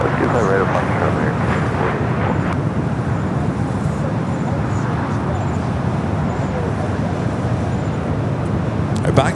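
A jet airliner departing from runway 25 right at Los Angeles International Airport, a loud, steady engine roar with broadband rumble that holds throughout.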